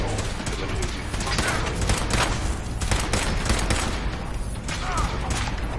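Gunfire in the video game Fallout 4, a dense run of rapid shots and mechanical clatter layered over continuous game noise, with a player's voice talking over it.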